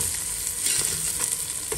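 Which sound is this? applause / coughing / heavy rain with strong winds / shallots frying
shallots frying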